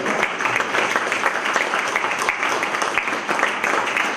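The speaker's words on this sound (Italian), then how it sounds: "proporrei un ulteriore applauso" Loud, dense applause from a theatre audience after a performance of a Pirandello play, sustained and close for the whole span with brisk individual claps audible.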